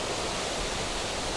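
Steady roar of white water streaming down a hillside at Aber Falls waterfall, a dense, even broadband rush without breaks, heard close and constant.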